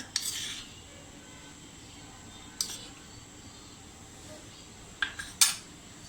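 A spoon clinks faintly against a bowl while cornflour is mixed into condensed milk for instant kharvas, giving a few sparse, light taps spread over a quiet background with no talking.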